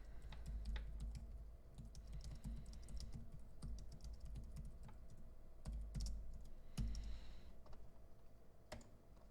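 A comment is typed on a computer keyboard in a steady, dense run of close keystroke clicks with occasional heavier key presses, continuing without pause and with no talking.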